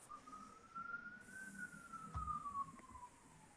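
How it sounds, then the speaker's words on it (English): A distant emergency siren rises and falls in one slow sweep, faint and thin behind quiet background noise, with a couple of brief knocks near the end. "Oh, I think that siren's me."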